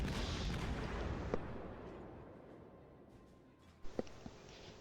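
Warship guns firing in the naval video game World of Warships: a broad, fading roar of a salvo at the start, then a couple of sharp distant booms near the end.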